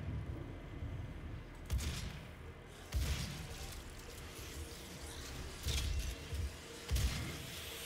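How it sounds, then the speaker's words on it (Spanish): Shotgun blasts in the DOOM video game boom out as several separate heavy thumps spaced a second or so apart, mixed with game effects over a quieter background. "usando la escopeta de verdad"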